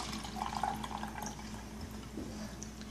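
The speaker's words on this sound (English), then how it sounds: "in your espresso maker, this is where you add the water" Water trickles and splashes faintly into the base of an espresso maker while an iced vanilla latte is being made; it is a quiet, continuous pour without speech.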